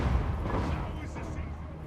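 Artillery and cannons shelling hard in the Total War Warhammer dwarf campaign, a dense, steady rumble of booming fire that fills the whole stretch with no clear breaks.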